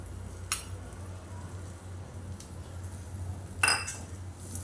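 A spoon stirs jaggery and freshly grated coconut together in a metal pot, giving a few faint, scattered clinks and scrapes against the pot over a quiet background, with no talking.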